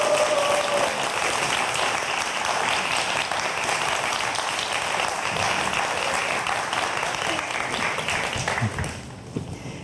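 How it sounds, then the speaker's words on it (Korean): An audience applauds to welcome a lecturer onto the stage, steady dense clapping that holds for nearly ten seconds at full strength before tapering off at the very end. "박수로 맞아주세요."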